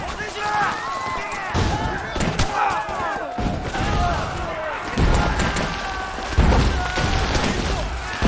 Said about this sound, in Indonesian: Aksi baku tembak pun segera meletup membuat tentara Jepang terdesak kewalahan